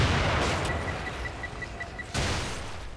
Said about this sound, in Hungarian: Eltalált az a robbanós nyilvesszővel.